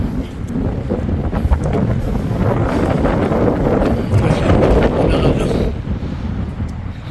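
Strong wind buffets the microphone in a loud, continuous roar at Space Walk in Pohang, South Korea, with faint voices mixed underneath.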